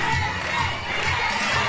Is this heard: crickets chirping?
no